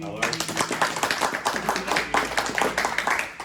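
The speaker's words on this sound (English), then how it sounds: "Round of applause." Audience applause after an introduction at a comics panel, a quick burst of many hands clapping at close range, fairly dense and lively, with some voices mixed in.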